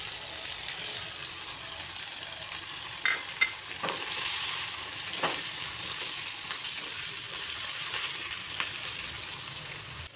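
Two large chopped onions fry with a dried chili and nigella seeds in a pan until browned, a steady broadband sizzle with a few light scraping clicks from stirring, close and continuous.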